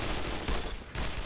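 Dense, continuous gunfire from a World War II shooter game, Brothers in Arms, rattles loudly with no pause for just over a second.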